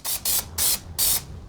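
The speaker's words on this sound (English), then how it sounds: "But shake that and then you spray it." A spray can of adhesive fires four short, loud hissing bursts in close succession, each lasting under a quarter second with brief gaps between.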